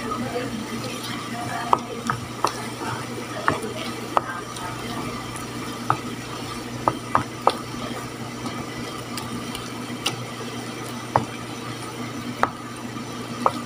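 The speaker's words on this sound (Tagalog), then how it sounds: "Haluin lang natin siya ulit." Sweet potato filling for buchi being stirred in a pan, a steady low simmering hiss punctuated by irregular light clicks and taps of the spoon against the pan.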